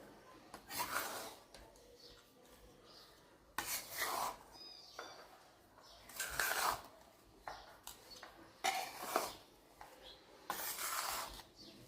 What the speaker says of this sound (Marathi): अशा पद्धतीने हाताने एक जीव करून घ्यायचं सगळं